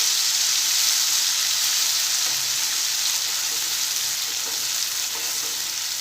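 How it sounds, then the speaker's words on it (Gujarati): Masala paste with raw tomato sautéing in oil over a low flame, a steady close sizzle that holds evenly from start to finish with no voices. "અને હવે તેલમાં સાતળી લઈશું"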